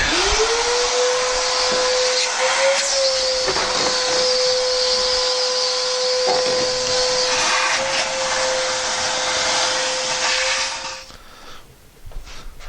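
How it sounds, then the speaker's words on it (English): A vacuum cleaner runs steadily and loudly with a high motor whine for about eleven seconds while cleaning a Bosch ductless dryer, then shuts off and winds down. "try to vacuum that little spot out"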